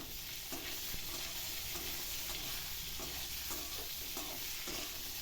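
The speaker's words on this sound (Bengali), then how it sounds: "প্রথমে আনাজগুলোকে একটু ভালো করে কষে নিয়েছি।" Chopped vegetables sauté and are stirred in a hot pan, a continuous close sizzle with intermittent scraping and stirring sounds, no talking.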